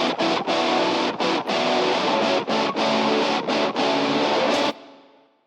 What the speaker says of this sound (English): Got to add in some reverb, so we put it in a room.